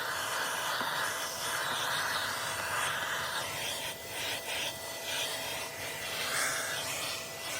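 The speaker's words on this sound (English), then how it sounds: "Lightly brushing the bristles over the dusty surface will remove the bulk of the dust." Soft bristles of a vacuum brush attachment sweep steadily across a dusty car interior surface, a continuous close rubbing hiss with faint machine drone beneath and no talk.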